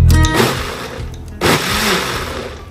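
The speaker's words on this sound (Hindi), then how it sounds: "चलो फिर से मिक्सी।" A mixer grinder churns mango dessert with melted vanilla ice cream and sugar, its loud motor whirring steadily through the short stretch, with a jolt as it restarts partway.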